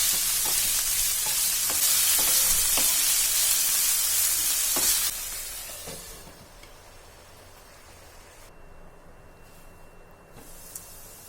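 Chicken pieces fry in a pan with loud, steady sizzling and a few stirring clicks. The sizzle drops to a much quieter hiss about halfway through.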